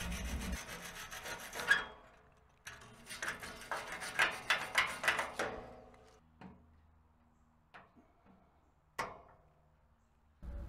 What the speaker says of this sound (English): I'm using a wire wheel and a brush to clean the metal